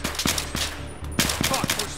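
Rapid bursts of gunfire in the video game Battlefield 3, loud repeated shots in a broken rhythm over a steady low rumble of battle ambience.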